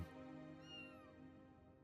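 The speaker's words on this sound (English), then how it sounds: "kitten" A kitten meows once in Final Fantasy XIV, a short, clear, high, drawn-out mew heard alone and close over faint game ambience.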